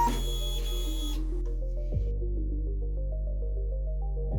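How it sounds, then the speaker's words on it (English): Vinyl cutter plotter resetting after its reset button is pressed, giving a steady low machine hum with a series of short stepped electronic tones and a brief burst of higher mechanical noise at the start. "Hit the reset button, it will go back into normal mode and reset the machine."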